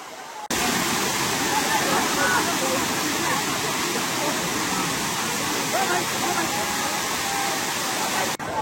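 A waterfall at Matheran hill station sends out a continuous, even rushing roar that fills the whole scene at close-to-moderate distance, with no pauses or changes in strength.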